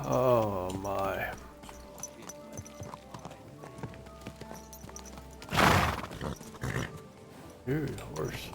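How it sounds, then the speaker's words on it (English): Horse in the medieval video game Kingdom Come: Deliverance 2 gives a loud whinny at the start, followed by hoof clip-clops and a snort burst midway, while a voice talks over parts of it. "Dude, horse."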